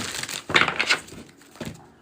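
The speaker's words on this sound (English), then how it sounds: "Shuffling for group 3." Playing cards shuffled as a deck, two brisk bursts of crisp riffling and snapping, the first longer, then a short second flutter, close and fairly quiet.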